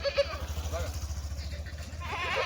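Kathiawari goats give short bleats at the start, over a steady low rumble and shuffling farmyard noise, with a voice faintly present in the background.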